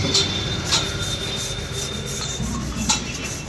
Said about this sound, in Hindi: देखो भाई पॉलिश हो रही है